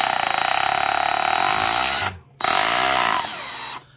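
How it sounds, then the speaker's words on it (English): A DeWalt 36v Nano Lithium 1/2-inch cordless hammer drill from the 2000s whirs loudly in two close bursts, with a rapid hammering rattle, a short stop between them and a quiet gap near the end. "you could actually do hammer drilling and the clutch would be on real soft"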